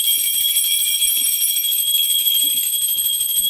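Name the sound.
puja bell being rung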